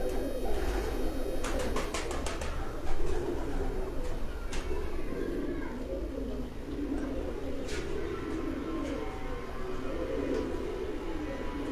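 Racing pigeon cooing steadily over a constant low hum, with a few sharp clicks and brief higher chirps scattered through, heard alone with no talk.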